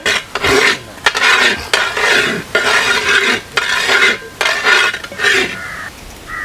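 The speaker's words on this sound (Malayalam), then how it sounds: "നന്നായി ഒന്ന് ഇളക്കി കൊടുക്കുക, അടി പിടിക്കണ്ട." A spoon stirs village-style chicken varattiyathu in a pan, giving loud, close rasping scrapes against the metal in repeated bursts with short pauses, alone without speech.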